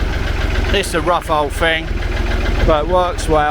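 An old, rough, basic forklift engine idles with a steady low rumble close by, while someone talks over it.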